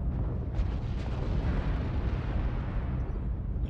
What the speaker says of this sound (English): That light behind us calling in that new artillery